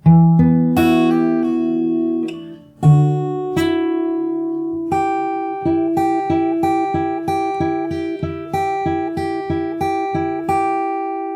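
Fingerstyle acoustic guitar plays a slow closing passage, a few sustained opening notes and chords followed by a steady run of evenly repeated plucked notes, close and clear with no voices.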